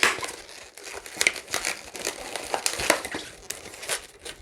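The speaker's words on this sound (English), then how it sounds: "Wrap those around, and then I can snip off the end and just tie." A balloon gets wrapped around into loops, snipped and tied, giving close rubbery squeaks and crinkling rubs in quick irregular bursts with no speech.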